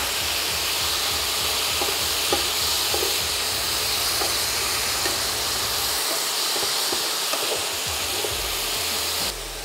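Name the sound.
water added to cooking leeks, sizzling in pan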